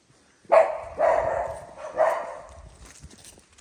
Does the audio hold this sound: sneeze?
no